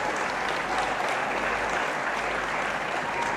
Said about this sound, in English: Clap for your parents, your guardians, and your sponsors.